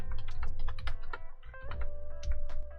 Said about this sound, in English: We can do that by typing systemctl